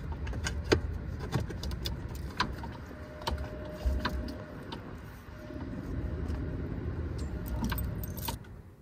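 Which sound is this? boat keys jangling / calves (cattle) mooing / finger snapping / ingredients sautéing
boat keys jangling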